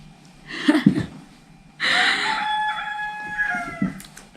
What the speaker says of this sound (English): Wow, that chicken.